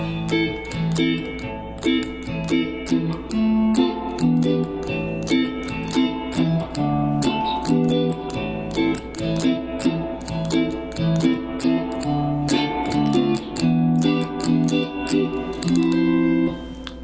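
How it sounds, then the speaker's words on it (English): Guitar minor seventh chords ring out in a steady progression with an effected, chorus-like tone, each strum sustaining into the next at a moderate volume. "So the chord progression will sound like this."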